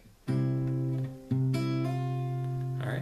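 Measure four of a song from the film F2 is played on guitar: a few sustained plucked notes, a short gap and a re-pluck, ringing close and clear with no voices.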